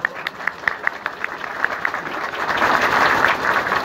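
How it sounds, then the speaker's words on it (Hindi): Applause greets the chief guest at a Republic Day parade, a crowd clapping that starts as scattered distinct claps and swells into steady, dense applause over a few seconds, with no talk. "तालियों के द्वारा स्वागत मुख्यातिथि महोदय का।"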